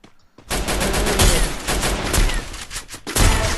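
Rapid gunfire bursts from a battle royale video game, loud and dense with short gaps, continuing almost throughout with a brief quiet start.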